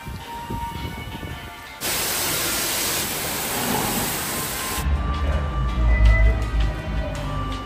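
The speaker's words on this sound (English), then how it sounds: "They spray the empty wash bay" Car wash spraying water in an empty wash bay, a loud, steady hissing spray that starts abruptly, runs for several seconds, then drops to lower rumbling water noise.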